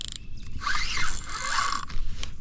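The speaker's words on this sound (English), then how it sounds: "I tightened down the drag too soon." Fishing reel drag clicking as a fish bolts and pulls line while fishing with worms, a steady ratcheting run of rapid clicks, close and fairly loud, heard alone.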